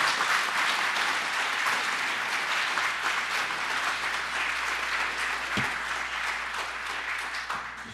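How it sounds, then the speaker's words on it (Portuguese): A lecture audience gives sustained, dense applause after a remark in a talk on ethics and social rights, a steady wash of many hands clapping that continues evenly throughout. "Quero que as palmas sejam para mim, não para quem anunciou a frase."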